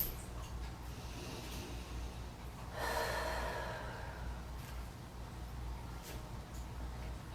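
Deep, noisy breathing during a foam rolling recovery exercise, a steady airy background with one louder, longer exhale swelling near the middle, close and alone.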